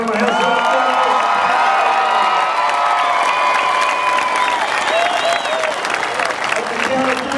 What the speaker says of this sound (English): How about it, ladies and gentlemen? Have some applause.